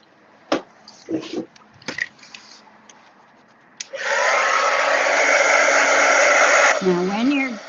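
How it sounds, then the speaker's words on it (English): A hair dryer blows steadily for about three seconds to dry wet vellum card, loud and close, after a few light taps and handling sounds, with a brief voice at the end. "Now I'm going to just dry this a little bit because I can see that it is a bit wet."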